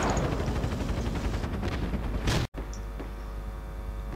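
Dense gunfire in the Project Reality video game, rapid overlapping shots and rattling bursts that continue loudly, broken by a brief cut before steady firing noise resumes.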